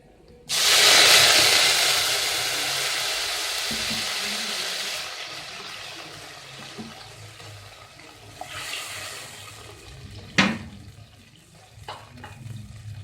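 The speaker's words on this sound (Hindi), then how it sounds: "अब हम इसमें थोड़ा सा पानी डालेंगे।" Water poured into a hot pan of golden-brown fried whole masoor lentils bursts into a loud sizzling hiss that slowly fades, with a few clatters and a sharp clink near the end.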